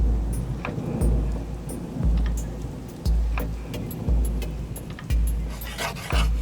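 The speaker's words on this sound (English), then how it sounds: "It was thunder." Thunder rumbles in a storm: deep, rolling booms recur about once a second, loud and close, with crackling rain and scattered sharp taps over them.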